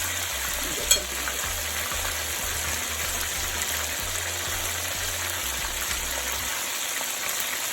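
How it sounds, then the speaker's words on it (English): Chicken pieces frying in hot oil in a pan: a steady, dense crackling sizzle that holds at an even level throughout, close by, with one brief clink near the start. "So this side is being fried now for 10 minutes"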